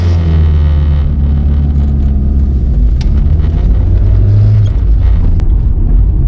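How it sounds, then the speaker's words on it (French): Engine of a Volkswagen Corrado G60 revved lightly, a loud, close, continuous low rumble holding steady over several seconds with small swells, no voices. "j'ai essayé un petit peu d'accélérer"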